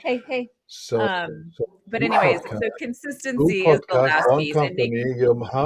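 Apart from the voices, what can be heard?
No everyday noise stands out behind the speech.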